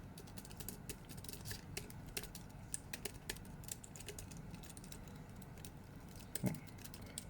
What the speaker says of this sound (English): if you want to hear the noise, so if you type quickly